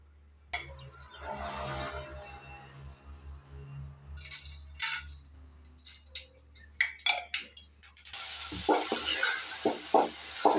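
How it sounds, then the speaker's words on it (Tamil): Spices being tempered in hot oil for Tamil curd rice sizzle and crackle in a pan, with steady stirring and utensil clinks throughout and a louder burst of frying near the end. "தயிர் சாப்பாடு தாளிக்கலாம் ஃப்ரெண்ட்ஸ்."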